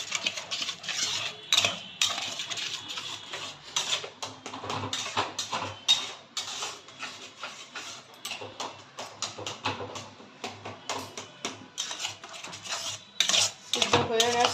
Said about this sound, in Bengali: আমি একটু নেড়ে দেবো